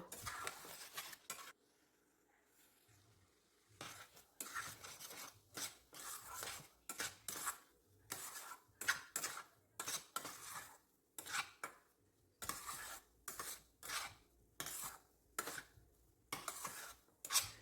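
Semolina being dried in a kadai gets stirred in repeated bursts of metal spoon scraping against the pan, rhythmic strokes separated by brief quiet pauses, fairly close and alone.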